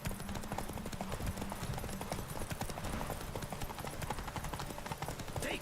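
Roach, a horse in The Witcher 3, gallops in a quick, steady clip-clop of hooves that runs throughout at a moderate level, with no talk over it.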